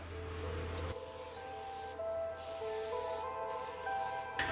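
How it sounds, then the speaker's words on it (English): Hissing bursts of tire mounting lube sprayed from an aerosol onto a dirt bike tire bead, close and loud, in several long pulses separated by brief pauses. "I'm gonna spray it on both sides of the bead"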